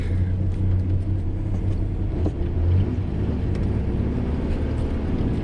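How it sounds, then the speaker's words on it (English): A Ford Ranger pre-runner build with a vacuum leak runs its engine hard, a steady loud low rumble with the revs rising and falling throughout and no break. "Spin them tires."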